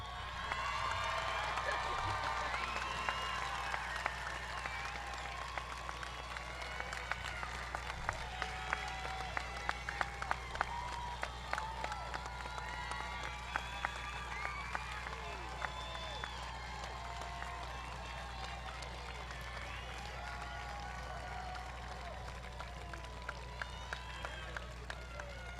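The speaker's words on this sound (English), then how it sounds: "Please stand and applaud your Niles West class of 2021." Audience at a high school commencement standing to applaud the graduating class, a long sustained roll of clapping with scattered cheers and whoops, fairly distant, over a steady low hum and some crowd voices.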